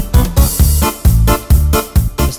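A Yamaha Tyros arranger keyboard plays a new rhythm style: loud, punchy drum hits and bass in a steady, bouncy pattern with chords, close and alone.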